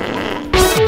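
A short, loud fart sound from a Zoomer Chimp robot toy, a brief buzzy blast that starts abruptly near the end after quieter background.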